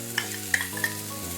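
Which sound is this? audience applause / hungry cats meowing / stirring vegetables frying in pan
stirring vegetables frying in pan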